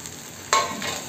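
Peas tipped into masala that has begun releasing its oil, giving a sudden sizzling burst that crackles briefly, then settles into a quieter fry with a faint second flare.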